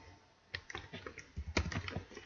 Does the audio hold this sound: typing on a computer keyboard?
yes